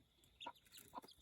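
Sebright chickens in a pen give a few short, close clucks in quick bursts, separated by quieter gaps in a small backyard enclosure.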